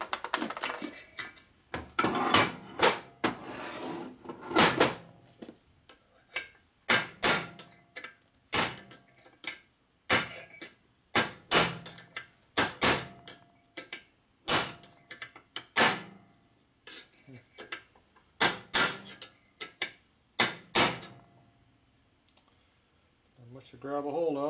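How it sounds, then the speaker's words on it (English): Sharp metallic hammer blows on a punch driving a bearing race out of a 1977 Harley-Davidson Sportster Ironhead 1000cc motorcycle engine, with dozens of loud, close strikes in uneven bursts separated by short pauses. "Just hit this on the inside of the cup and go back and forth and knock it out."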